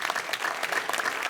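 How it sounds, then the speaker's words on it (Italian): Steady applause from an outdoor crowd in a town square in Jesolo, honouring the stage crew at a summer evening show. The clapping is dense and continuous, heard from a middle distance. "Fate sentire un applauso che arrivi a tutti gli uomini ombra"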